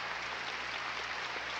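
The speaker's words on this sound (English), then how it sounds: "Everybody cheers." A crowd at a 1988 USA-USSR gymnastics meet applauds and cheers a gymnast's routine with a dense, steady wash of clapping, held at an even level throughout.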